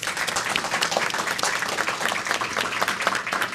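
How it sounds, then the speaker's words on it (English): An audience at a civic city recognition event in Newark claps for the speakers, a dense, even round of applause lasting a few seconds with no talk over it. "Let's give everyone a round of applause."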